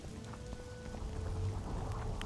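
Steady rainfall in the video game The Witcher 2 patters and hisses in a continuous wash, with scattered individual drops ticking close by.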